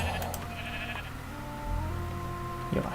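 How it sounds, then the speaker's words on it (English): Video game sheep bleats under a continuous hum of background game sound, a steady wavering call heard clearly from close range. "Oh, there's a sheep."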